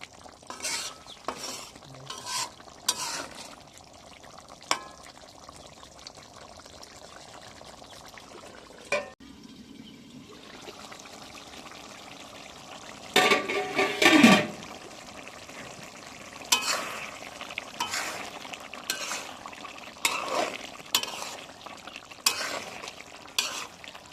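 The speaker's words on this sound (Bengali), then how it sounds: "গরম মশলার গুঁড়া দিয়ে তরকারিটা নেড়ে দিব এবং ঢেকে দেব কিছুক্ষণের জন্য" A spoon stirs meat curry seasoned with garam masala powder in a pan, with scraping strokes and soft sizzling and bubbling that swell briefly midway, close and alone without talk.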